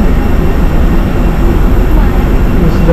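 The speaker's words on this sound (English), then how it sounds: "This is the plane we're gonna be riding" A loud, steady engine drone surrounds an airplane being boarded at NAIA domestic airport, filling the scene with continuous close mechanical noise.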